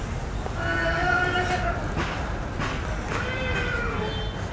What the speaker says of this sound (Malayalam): കുതിരേനെ എടുക്കാൻ പോകുമ്പോൾ കുതിര കരയുന്നത് സ്വാഭാവികമായിട്ടും അതിൽ വരും.